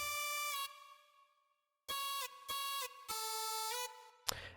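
A crunchy trap synth layer from a remix plays bright sustained harmonic notes in short phrases, with a gap of silence near the start and a sharp hit at the end.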